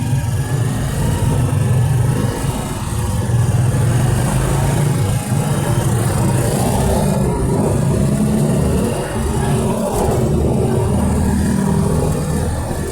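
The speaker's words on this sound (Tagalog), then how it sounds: "Medyo konting traffic." Steady road traffic noise with a continuous low engine rumble from cars, loud and close throughout, with occasional revving swells and no clear talk.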